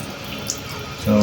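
Water from a household supply line running into a bowl, a steady close hiss of flowing water that swells louder near the end, with no speech.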